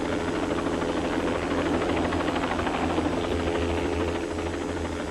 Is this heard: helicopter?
yes